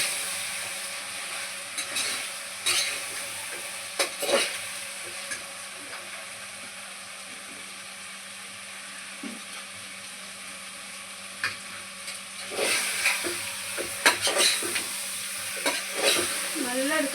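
Chicken kuska ingredients being sautéed in a large pressure cooker: a soft background sizzle broken by intermittent scraping strokes of a spoon against the metal, bunched into short clusters, close up with no voices.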